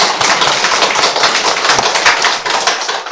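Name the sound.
congregation clapping in thanks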